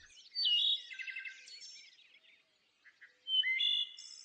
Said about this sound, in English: In this case, the thrush is saying, "Hello, I'm here. I'm all right."